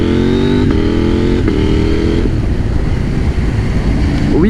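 A motorcycle rides and accelerates along a scenic country road in France, its engine droning steadily and climbing in pitch through several gear changes, loud and close, with constant wind rush.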